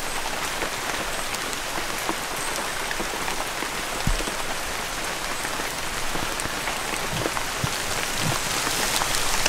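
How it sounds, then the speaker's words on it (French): Heavy rain pours down in a forest on La Gomera, a dense, steady hiss of countless drops hitting leaves and ground, with occasional louder close splats throughout. "De retour dans la forêt magique, mais cette fois, il pleut des cordes."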